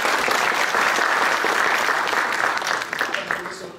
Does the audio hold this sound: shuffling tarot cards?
no